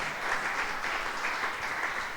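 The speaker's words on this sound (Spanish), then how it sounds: "Démosle un fuerte aplauso a nuestra hermana Alicia" A church congregation at a Sunday service gives a sustained, dense round of applause to welcome back a member, steady and fairly loud for the whole stretch with no voices over it.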